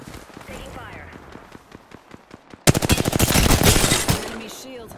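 Bursts of automatic gunfire in a first-person shooter video game, faint scattered shots at first, then a loud rapid volley erupting midway and continuing to the end, with a voice speaking over it.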